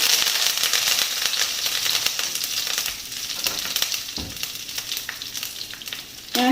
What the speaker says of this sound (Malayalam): കടുക് പൊട്ടി തുടങ്ങുമ്പോൾ നമുക്ക് കറിവേപ്പില ഇട്ട് കൊടുക്കാം